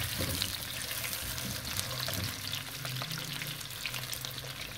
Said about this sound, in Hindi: अभी हम इसको 3-4 मिनट भूनेंगे अरवी को